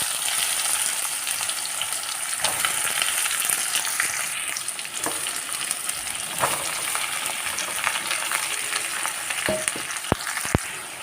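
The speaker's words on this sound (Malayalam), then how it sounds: "ഇനി സവോളയാണ് കേട്ടോ ഞാൻ വഴറ്റിയെടുക്കുന്നത്" Sliced onions with a teaspoon of cumin seeds sauté in a hot pan, a continuous close sizzle and crackle with occasional stirring scrapes and sharp clicks.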